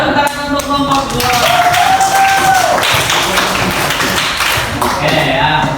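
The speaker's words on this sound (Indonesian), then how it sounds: "tepuk tangan untuk kelompok 2" Classroom applause for a group of seventh-grade students during a prayer lesson, with steady claps filling the whole stretch over scattered voices and a whistle-like tone partway through.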